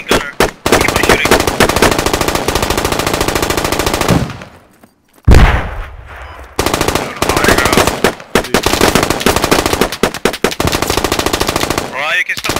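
Sustained machine gun covering fire in the video game Squad, long dense automatic bursts broken by a short pause midway, loud and close, with a voice speaking beneath.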